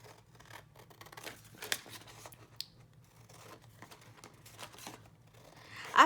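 Scissors snipping through paper for a hanging journal pocket, quiet and close, with scattered short cuts and light crinkling of the sheet, ending in a louder rustle.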